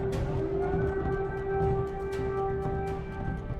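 An air raid warning siren wails steadily over Kyiv, a sustained mid-pitched tone with layered harmonics holding throughout, loud and continuous against a rumbling city background with scattered sharp clicks.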